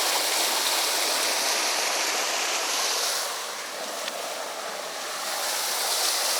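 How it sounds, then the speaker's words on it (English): Steady rush of deep stream water pouring through a flooded hiking trail crossing, a loud, continuous broadband wash heard up close with no voices, dipping slightly midway before swelling again. "A lot of water going into there."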